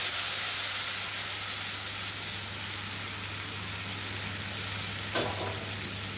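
An egg marinade is poured into hot spiced oil for a Bengali cashew-and-poppy-seed egg dish. A loud, continuous frying sizzle and hiss fills the whole stretch, with a brief stir or splash near the end.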